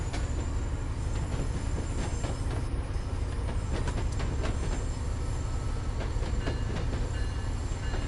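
Simulated train rolling toward Worcester in the game Train Sim, a steady loud rumble with rhythmic wheel clatter and occasional clicks running continuously throughout, no voices.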